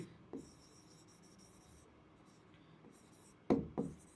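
Chalk or marker writing on a classroom board, quiet scratchy strokes with a couple of sharper taps near the end, faint and close, no voices over it.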